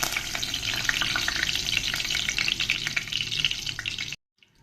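Curry leaves dropped into well-heated oil crackle and sizzle loudly and continuously up close, then the sound cuts off abruptly near the end.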